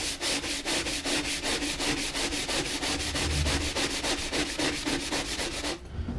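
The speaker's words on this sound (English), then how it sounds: "so I'm gonna start scrubbing right now." A dirty stove scrubbed by hand with Superclean cleaner: rapid, rhythmic back-and-forth scratchy rubbing strokes, close and steady for several seconds before stopping.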